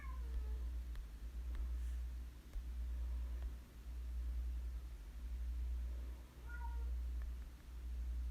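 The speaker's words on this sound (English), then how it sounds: "And my cat Basil is here to join us." A cat meows a few times in a quiet room, short faint calls near the start and again toward the end, over a steady low hum.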